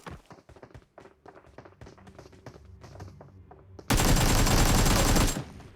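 Gunfire in the mobile battle royale game PUBG Mobile: a run of sharp, rapid shots at first, then a sudden loud, dense burst of sustained firing for about a second and a half before it cuts off.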